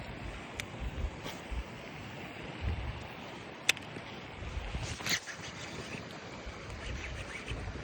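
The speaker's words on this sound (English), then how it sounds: "all the wind is ruining it" Outdoors during bass fishing, wind gusts buffet the microphone in uneven low rumbling bursts over a faint, quiet background, with no speech.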